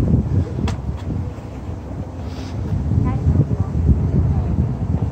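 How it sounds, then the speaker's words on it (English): Strong wind buffets the microphone with a continuous low roar while a person talks underneath it. "I don't know if y'all can even hear me because of all that wind."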